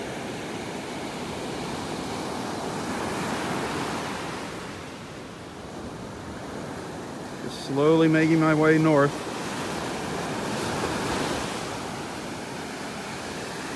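Rough surf on a Gulf beach in North Naples, Florida washes in a continuous broad roar that swells and eases, with a voice briefly speaking over it midway.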